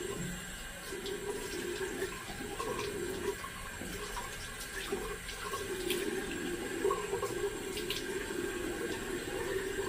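Water runs steadily from a bathroom tap while a man wets his face before shaving, a continuous close splashing stream with small shifts as hands pass through it, no talking.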